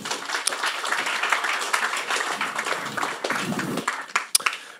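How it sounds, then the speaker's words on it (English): A conference audience claps for a guest taking the stage at a tech IPO panel, a crisp, close burst of many hands with uneven peaks that thins out toward the end. "How about a round of applause for Carl?"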